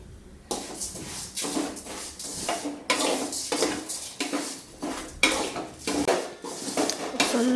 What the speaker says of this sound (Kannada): ಶಾವಿಗೆ ಹಾಕ್ಕೊಂಡು ಸ್ವಲ್ಪ ಚೆನ್ನಾಗಿ ಬ್ರೌನ್ ಕಲರಾಗಿ ಫ್ರೈ ಮಾಡ್ಕೊಬೇಕು